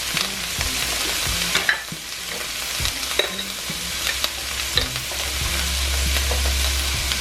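Garlic sizzling in a pan for shrimp with red peppers and onions, as a spoon stirs it around with repeated scraping clinks over a continuous frying hiss, no talking.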